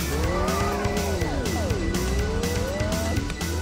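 In the video game Rekt Crash Test, a car drifts with a steady engine drone and long, loud tire squeals whose pitch bends up and down for the whole stretch.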